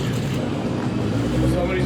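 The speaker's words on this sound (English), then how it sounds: "Well, that's a proper burnout right there." Race car doing a burnout at a summer racing event, a loud continuous engine roar and tire noise throughout, with a commentator talking over it.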